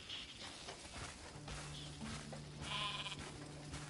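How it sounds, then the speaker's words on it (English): Sheep bleating in the video game Crimson Desert, a few short bleats at moderate distance over a low ambient game soundscape, with no talking. "That little sheep almost looks like a little baby cow."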